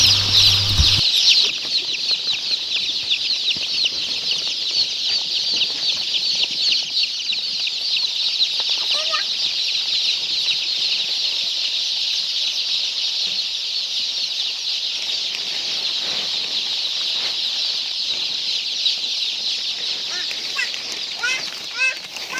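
Chickens on a poultry farm cluck and call continuously at close range, with occasional wing flaps and scratching over a constant dense chatter of fowl.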